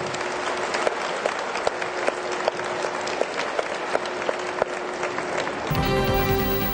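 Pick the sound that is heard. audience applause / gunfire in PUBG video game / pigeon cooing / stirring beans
audience applause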